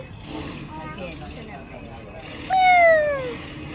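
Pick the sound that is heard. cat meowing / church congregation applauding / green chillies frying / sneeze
cat meowing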